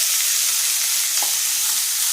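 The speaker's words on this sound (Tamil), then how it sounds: "சிம்மிலே கொஞ்சம் நேரம் வதங்கட்டும்." Chopped carrots and beans sizzle steadily in hot oil over low heat, a constant close crackling hiss with no talking.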